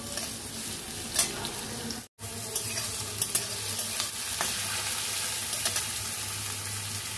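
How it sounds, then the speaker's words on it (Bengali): Chicken and onion fry in a pan, a steady close sizzle with intermittent scraping stirs and one brief pause. "এরপর আমি চিকেনটাও দিয়ে দেবো, দিয়ে ভাজবো।"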